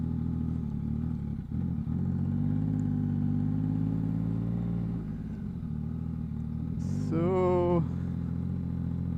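A Yamaha MT09 motorcycle fitted with a Two Brothers exhaust drones steadily at cruising revs, then gives a short, sharp rising rev burst near the end, heard from the rider's position with a single brief spoken word early on.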